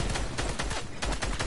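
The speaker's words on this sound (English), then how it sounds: "They're shooting." Rapid gunfire in a battle royale video game, a dense run of loud shots in quick bursts with no talk over it.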